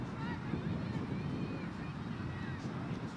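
Steady wind buffeting the microphone with a low rumble during a women's college soccer match, while muffled voices carry faintly underneath.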